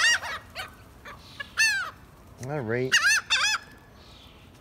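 Loud squawking and honking calls from birds, likely geese or fowl, crowd around a person scattering food, several calls in quick succession with a brief spoken remark between them.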